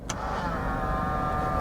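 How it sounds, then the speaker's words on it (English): Electric door mirrors of a cheap secondhand Mazda 2 whirring as they fold, a steady buzzing motor hum heard close up and alone for about a second and a half after a brief click. "What about the mirrors? They're noisy, but they work."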